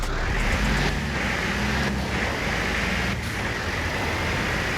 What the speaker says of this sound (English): Now the Unimog in Forza Horizon 4 sounds a bit like this.